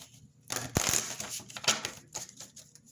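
Close papery riffling and slapping of tarot cards being shuffled, in quick irregular bursts, fairly quiet, with no talking.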